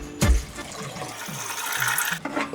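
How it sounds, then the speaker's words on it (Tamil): Water from a cup poured into a pot on a home kitchen stove: a brief splashing pour of about two seconds, close and moderately loud, starting with a clunk and ending abruptly. "தண்ணி ஊத்து."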